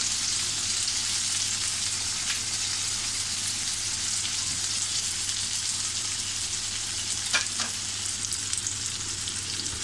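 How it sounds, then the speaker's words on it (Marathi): Two medium chopped onions sizzling in a pan over low heat for a pea curry, a steady broadband hiss of frying with occasional soft stirring scrapes, constant and fairly close, without any talking. "कांदा आपल्याला छान असा थोडा गुलाबी रंग येईपर्यंत परतून घ्यायचा आहे."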